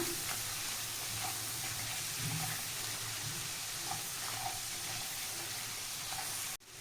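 Spices for paneer butter masala sizzle steadily in a frying pan as they are stirred, a continuous faint crackle with soft scraping and no talking.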